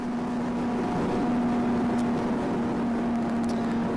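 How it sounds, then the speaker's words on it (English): Race car engine heard from an onboard camera in the leading car, a steady droning hum that holds for the whole stretch at moderate level, with no talking over it. "Maybe you can hear a little bit of the engine."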